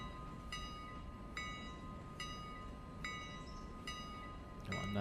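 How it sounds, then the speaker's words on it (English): A 0-6-0 switcher locomotive backs slowly onto a train in the Railroader video game, a steady low engine drone punctuated by regular tonal clanks or bell-like pings roughly every second, with a brief louder clunk at the end. "So let's just slowly back onto the train."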